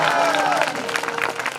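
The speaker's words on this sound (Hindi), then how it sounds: "एक बार जोरदार तालियां बजाओ" Audience applause at a Hindu Ram Katha religious discourse, a dense burst of clapping from a crowd with voices and some tonal sound mixed in, fading slightly over about a second and a half.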